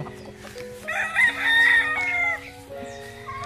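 A Sweater gamefowl rooster crows loudly and close, one drawn-out cock-a-doodle-doo with a rising middle and trailing end, against other hens and fowl clucking faintly around it.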